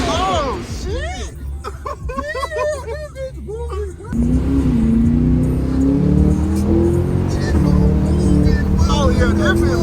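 A supercharged Cadillac Escalade V, heard from inside the cabin, launches midway into a loud, rising engine roar that climbs steadily, following excited chatter and laughter from passengers.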